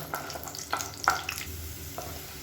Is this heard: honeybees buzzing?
no